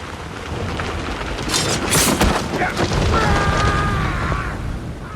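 Storm scene in a fantasy drama set on a bridge, with steady rain hiss throughout and a deep rumbling thunder boom near the middle, fairly loud, joined by faint dramatic tones and brief background voices.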